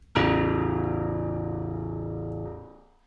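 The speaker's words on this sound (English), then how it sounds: "This is the key release sound. It's the sound of when the key lets up." A single low note from a sampled Production Voices Estate Grand Piano rings out and fades, then a soft thump and muted damper sound as the key is let up, alone.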